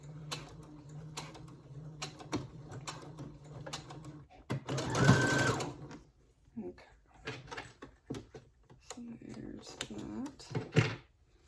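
A sewing machine stitches a triangle zipper pouch in one short close burst of rapid mechanical whirring, with someone talking before and after it.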